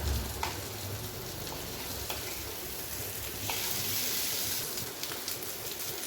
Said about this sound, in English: I will keep the flame high for 5 minutes and will fry the potatoes along with the masala